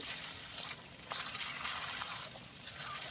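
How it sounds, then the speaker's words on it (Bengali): Fish heads frying in hot mustard oil in a wok over a low-to-medium gas flame, giving a steady, close hiss and crackle that swells and eases slightly across a few seconds. "এখন আমি মাছের মুড়োগুলো ভেজে নেবো বেশ লাল লাল করে"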